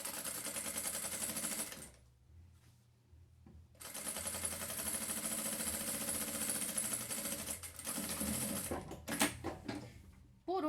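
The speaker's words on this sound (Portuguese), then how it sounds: "E aí eu venho costurando." A domestic sewing machine stitches fabric for a small backpack with little legs, its rapid mechanical whir running steadily, pausing briefly, then resuming in continuous bursts close to the microphone.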